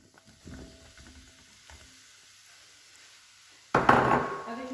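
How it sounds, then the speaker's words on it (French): Mushrooms drop into a pan of heated oil. A few quiet clinks and knocks come first, then a sudden loud sizzle bursts up near the end and keeps crackling. "là j'ai pris une poêle dans laquelle j'ai mis de l'huile. Je l'ai fait chauffer. Là je vais rajouter mes champignons."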